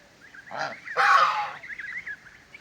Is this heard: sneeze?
no